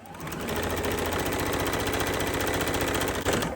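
A sewing machine stitches a quilt block seam at a quarter-inch allowance and 2.0 stitch length, a rapid, even mechanical chatter that starts up, runs steadily close by for a few seconds, then stops.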